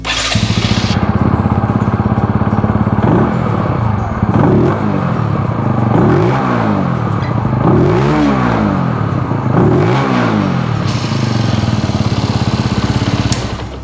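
A Benelli TnT 135 motorcycle on its stock exhaust idles loudly and close, then is blipped in a series of quick revs that rise and fall rhythmically, roughly every second or two, before settling back to a steady idle.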